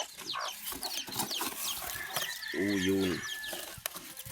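Black Australorp chickens and their chicks make soft, close clucking amid scattered farmyard noise, with one longer, drawn-out hen call; a person talks briefly nearby.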